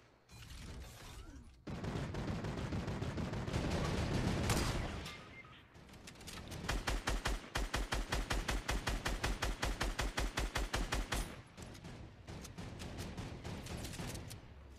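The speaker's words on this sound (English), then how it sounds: "His teammate started shooting at me" Rapid automatic gunfire in the video game Fortnite, a long run of evenly spaced loud shots after a noisy burst of shooting, heard close with no talking.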